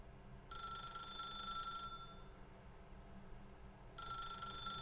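A telephone ringing in the video game The Stanley Parable Ultra Deluxe: two bursts of a bright electronic ring, each lasting about a second and a half, separated by a pause, over a low steady background hum.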